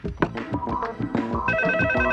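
A phone rings when calling Nikki, a loud melodic ringtone with repeating bright tone bursts that builds into a sustained electronic pattern.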